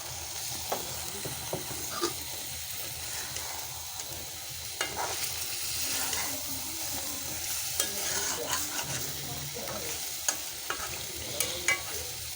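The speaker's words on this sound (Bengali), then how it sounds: "প্রথমে কিন্তু বলে দিয়েছি যে একেবারে আস্তে আস্তে এটাকে নাড়তে হবে।" Cauliflower and cabbage with coriander leaves being stirred slowly in a sizzling pan, a steady frying hiss broken by soft scrapes and occasional clinks of the spoon.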